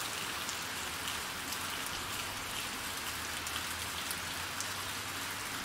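Steady rain falls outdoors in the hills of Ubajara in the Serra da Ibiapaba, Ceará, during winter, a dense continuous patter on surfaces with no voices.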